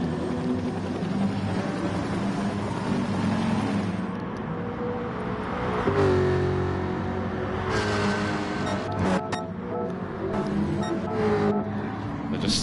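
Race car engines roar continuously through a Gran Turismo Sport FIA manufacturer race, a VW among the pack battling side by side into a chicane, loud and sustained with shifting pitch as cars jostle close together.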